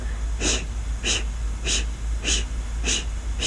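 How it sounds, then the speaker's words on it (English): Forceful yoga exhalations out through the mouth, six sharp breathy puffs in an even rhythm, close and clear against a low steady hum. "So this breathing is like blowing out a candle."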